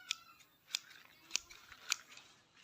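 Grass being cut by hand with shears, four sharp snipping strokes spaced about every half second, close and clear over a quiet outdoor background with no talking.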